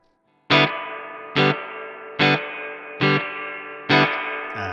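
Electric guitar played through a Crazy Tube Circuits White Whale V2 spring reverb pedal: five separate strummed chords ring out in an even rhythm, each one trailing into a long reverb wash.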